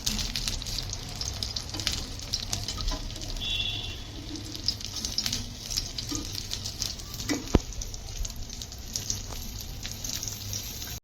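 Onion rings and egg omelette fry in a pan with a steady, close sizzle and crackle that runs throughout, with occasional light scraping.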